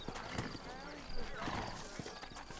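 Horses in Red Dead Redemption, sturdy mounts in New Ulster, clop along with hoofbeats and a whinny, heard faintly beneath men's conversation.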